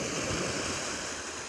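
Sea waves wash onto Mabua pebble beach on a breezy day, making a continuous broad rushing surf noise, loud and close, with no voices.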